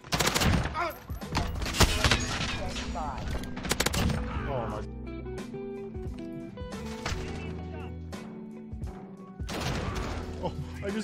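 Automatic AK-47 and M4A1 gunfire in a Modern Warfare match, dense bursts of rapid shots that come and go over several seconds with quieter pauses, loud and close, mixed with game sounds and some talk.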